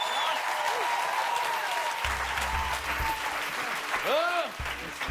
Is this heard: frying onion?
no